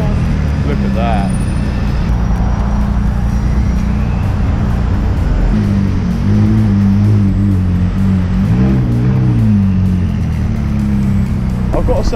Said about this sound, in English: for a turbocharged car with a V8 in it, that does sound very grunty